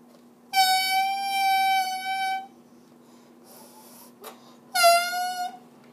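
A homemade whistle made from a raisin box, blown hard with the lips and teeth, sounds as a loud, steady harmonic whistle tone lasting about two seconds, then a short breath, then a second blast.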